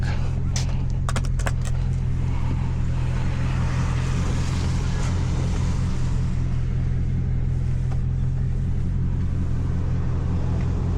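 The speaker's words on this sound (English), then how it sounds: "2 reasons I'm pulling you over. 1, for your modified exhaust." A Scat Pack car with a loud modified exhaust rumbles with a deep, steady low drone throughout, heard from close range alongside wind noise and a few sharp knocks.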